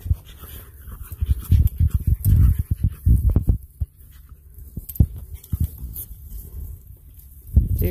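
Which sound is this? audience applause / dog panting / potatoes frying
dog panting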